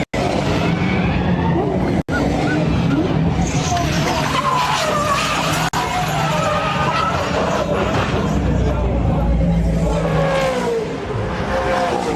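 A race car in a motorsport race crash skids with long screeching tire squeal over roaring engines, loud and sustained with a couple of sharp impacts, a commentator talking over it.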